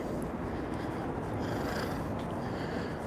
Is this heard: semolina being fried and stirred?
no